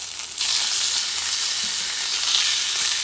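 A thin steak fries in a hot pan, a loud, close, continuous sizzle that swells after a brief quieter start and holds steady throughout.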